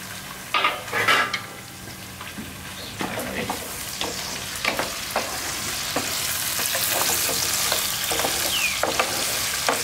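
Onions sautéing in a frying pan as the base for mussels in marinara sauce, a steady sizzle and crackle running throughout with occasional stirring scrapes and utensil clinks against the pan.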